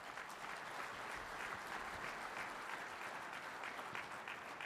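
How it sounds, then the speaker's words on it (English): An audience at the FARMCON 2022 farming conference gives a continuous round of applause, a dense, even patter of many hands that stays soft and somewhat distant throughout, with no voices over it. "Everybody give him a good round of applause."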